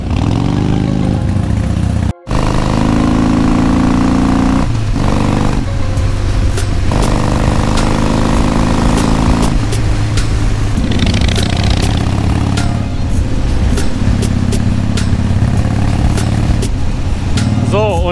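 A motorcycle on a road rounds a curve near a hotel, its engine droning loud and close with shifting revs throughout; the rumble is constant apart from a brief dropout near the start, with no clear talk.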